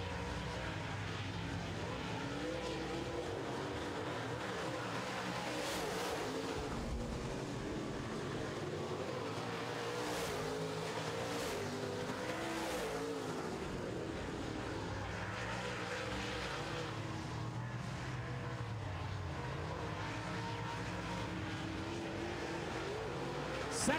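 Late model stock cars race side by side on a short oval during a heat, producing a continuous dense engine roar with brief swells as cars pass close, steady and unbroken throughout.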